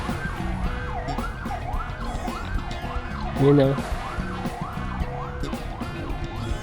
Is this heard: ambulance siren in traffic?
yes